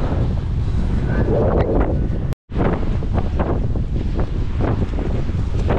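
Strong wind roars and buffets the microphone continuously beside the sea during heavy rain and flooding, with surf rushing underneath and a brief dropout in the middle.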